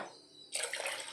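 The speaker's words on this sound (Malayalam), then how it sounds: "നമുക്ക് ഇതിലേക്ക് വെള്ളം ഒഴിച്ചു കൊടുക്കുക" After a brief quiet moment, water suddenly starts pouring in a bright splashing stream, close by.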